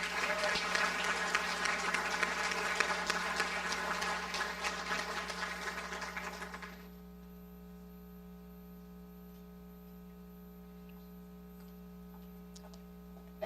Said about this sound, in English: Let's give these seniors a round of applause.